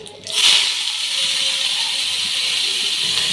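Chopped brahmi greens dropped into hot oil with cumin, a sudden loud hiss at the start that settles into a steady, bright sizzle close by, with no talk over it.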